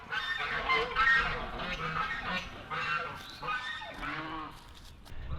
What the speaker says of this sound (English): With Rob and all the geese.